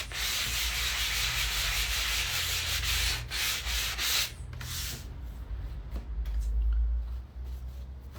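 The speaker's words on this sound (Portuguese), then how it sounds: "Uma lixa fina, tá? Lixar não é força," Fine sandpaper rubbed by hand across a floral plaque, a steady close scratchy rasp in long continuous strokes with a few brief pauses.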